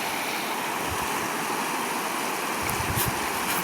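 Stream water flowing steadily outdoors during a fishing trip, a continuous broadband rush with a slight swell near the end, no talk over it.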